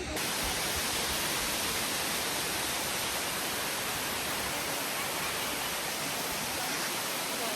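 A large waterfall roars steadily and loudly at close range, a dense unbroken rush of falling water with no other sounds.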